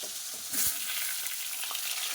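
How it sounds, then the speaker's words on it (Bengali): Pointed gourd (potol) frying in oil in a wok gives a steady, fairly faint sizzle with soft crackles. A brief louder spatter rises near the start, and no one speaks. "পটলটা ভাজা হচ্ছে"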